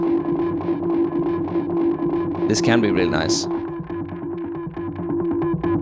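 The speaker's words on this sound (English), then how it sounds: "If you want more like the guitar pedal distortion kind of thing." A harsh, crunchy guitar-pedal-style distortion effect from an Ableton stock device on a sustained tone, with a voice speaking over the processed sound.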